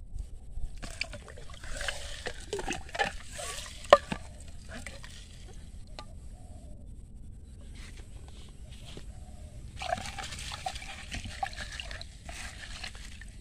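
Urea fertilizer granules being stirred and dissolved in water for feeding bitter gourd, a faint scraping and sloshing trickle in two bursts separated by a quieter pause, with one sharp knock partway through.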